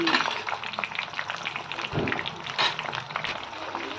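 Fenugreek, flax and kalonji seeds simmer in homemade hair oil in a pan, giving a steady close-up sizzle and bubbling with occasional stirring scrapes throughout.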